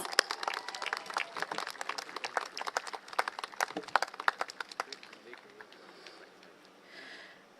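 Applause from a modest crowd at a Singapore GE2025 election rally at a science and technology school, a scattering of nearby claps that thins out and fades after about five seconds.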